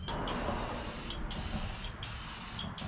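Krylon black spray paint hissing from an aerosol can onto a panel, a loud close continuous spray broken into several long bursts with brief pauses between them.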